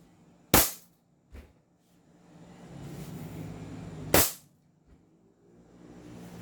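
An airsoft pistol firing single shots, two sharp loud cracks a few seconds apart with a faint click between, near and alone over low background rumble.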